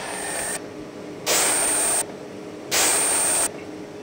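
A Makino EDF3 EDM spark erosion machine, heat version, runs in a machine shop, giving a steady hiss that swells into louder bursts of broadband spray-like noise twice, with a faint high whine on top.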